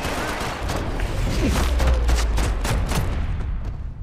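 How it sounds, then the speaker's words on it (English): Dense, loud gunfire from an in-game firefight in Max Payne 3, with rapid overlapping shots and booms hammering steadily for several seconds and no speech. "they immediately start shooting"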